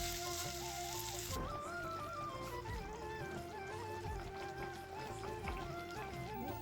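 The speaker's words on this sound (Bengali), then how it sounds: "আমি চিকেনটা কষতে লাগলাম" Chicken sautéing in a pan in a home kitchen, with a steady sizzle and crackle that runs throughout under sustained tonal background music.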